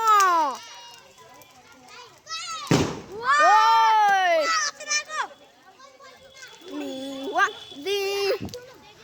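Firecrackers set off during a Shivaratri festival celebration: two sharp, loud bangs, one near the middle and one near the end, amid lively children's voices and chatter.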